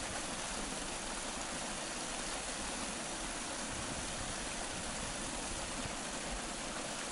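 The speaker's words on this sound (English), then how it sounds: "There it is, all coming out of that one culvert." Water rushes continuously out of a good-sized culvert in a ditch, making a steady, even roar that stays loud for the whole stretch, with no voices.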